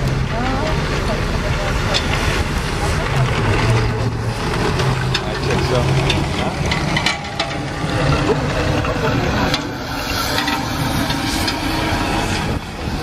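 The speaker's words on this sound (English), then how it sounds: "let's have this very rare Italian tank roll out" A rare Italian tank rolls out at a military museum event, its engine giving a loud, steady, broadband rumble that runs unbroken for the whole stretch, with voices mixed in underneath.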